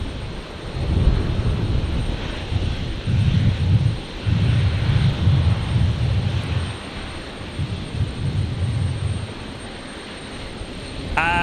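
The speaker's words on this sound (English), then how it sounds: "Velocity 986, runway 19 left, clear for takeoff." Velocity aircraft taking off from runway 19 left at Brisbane Airport at night, a loud steady engine roar with pulsing low rumble that stays close and strong throughout.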